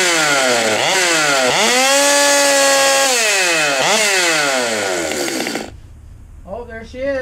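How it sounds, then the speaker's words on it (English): A Stihl MS200T top-handle chainsaw with engine issues revs loudly and continuously up close, its pitch rising and falling with the throttle, then cuts off abruptly, followed by quiet handling noises. "We're looking at August's MS200T chainsaw, top panel chainsaw"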